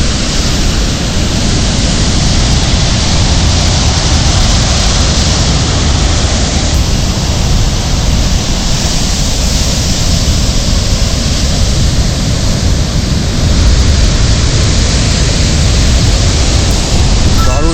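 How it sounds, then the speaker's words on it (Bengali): Loud, constant roar of ocean surf at high tide at Puri crashing and churning close by, large waves in a dense wash of water noise that never lets up. "এটা বিরাট বড় একটা ঢেউ আসছে বিরাট বড় ঢেউ আসছে"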